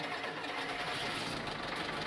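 An IFA W50 truck engine starting in Farming Simulator 22, a steady dense mid-range engine rumble that runs evenly through the short stretch with no voices over it.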